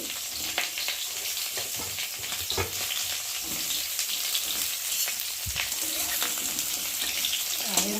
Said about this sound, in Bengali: তো চলো এখন পটলগুলোকে দিয়ে আগে ভালো করে ভেজে নেব।